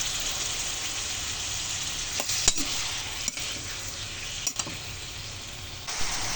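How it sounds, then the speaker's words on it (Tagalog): Shrimp stirred in a pan with Star margarine and garlic fry with a constant hissing sizzle, broken by a few sharp scrapes and clicks of the stirring. "At so, halo na natin yung hipon. Halo-haloin na natin to hanggat sa maging kulay orange na siya."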